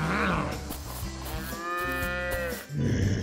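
A cartoon cow lets out a long, loud, tonal moo that rises and falls, heard close and alone against a light background soundtrack.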